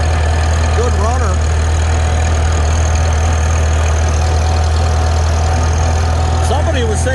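A Farmall Super C tractor engine pulls steadily up a hill in fourth gear, a loud, continuous low drone close by throughout with no break.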